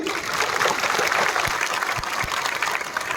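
A crowd claps in thanks at a protest meeting in Murshidabad, with brisk, steady applause lasting a few seconds and a few louder individual claps standing out near the end.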